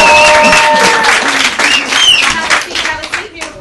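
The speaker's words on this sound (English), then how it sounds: "Clap it up." Applause from a talk show studio audience, a steady wash of clapping that starts loud and gradually thins, with a voice calling out over it.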